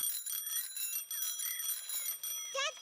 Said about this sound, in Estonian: Rebane Ruudil on nüüd 2 jalgrattakella.